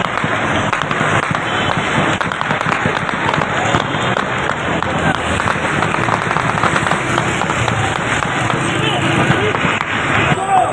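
Dense, loud gunfire crackles almost without pause through street clashes as Pakistani Rangers move against Imran Khan supporters, rapid sharp reports piling over one another with a muffled crowd roar underneath.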